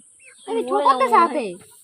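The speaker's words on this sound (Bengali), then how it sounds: "মুরগি" A hen clucks in a short, agitated burst of several rising and falling calls, close by and fairly loud, with no one talking.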